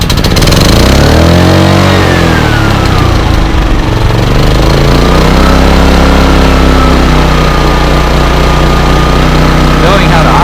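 A portable generator at an RV, its engine pulling to life with rising and falling revs before settling into a loud, steady running drone close by, with a person talking over it.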